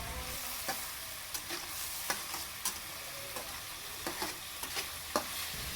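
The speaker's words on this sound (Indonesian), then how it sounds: "Tumis bumbu sampai keluar minyaknya." Ground spice paste sautés in hot oil with kaffir lime leaves, bay leaves, lemongrass and galangal for a pindang tongkol tuna stew, giving a steady close sizzle broken by frequent sharp scrapes and clacks of a stirring utensil against the pan.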